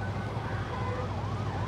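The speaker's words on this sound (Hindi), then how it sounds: "ये जो एम्बुलेंस की आवाज़ें सुन रहे हैं ना दोस्तों," Ambulance siren wailing at a distance, rising and falling tones over a low traffic rumble, brief and fairly faint, with no voices.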